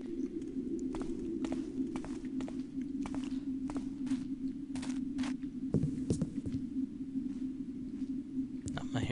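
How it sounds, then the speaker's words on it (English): Footsteps in the stealth game Thief: The Dark Project, a string of soft, evenly spaced steps over a steady low ambient drone, fairly quiet throughout with a few slightly sharper hits near the end. "Oh, I hear some more footsteps."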